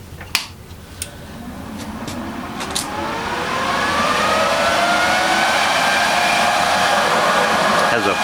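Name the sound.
cooling fan of SanRex SanArg 180AP TIG stick welder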